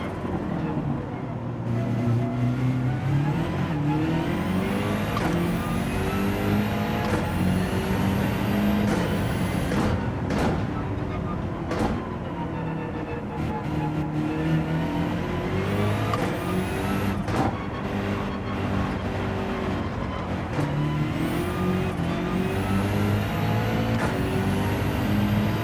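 Racing car engine in Gran Turismo 7, a Gr.3 car on hard tyres, revving hard through repeated upshifts and downshifts, loud and continuous throughout with no voices.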